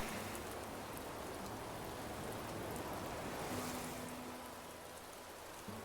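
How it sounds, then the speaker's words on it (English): Steady rain pours over an island in the Animal Crossing video game, a dense, even hiss of falling water that holds constant for the whole stretch with no voices. "These clouds that pass over us, letting the rain pour down over the island"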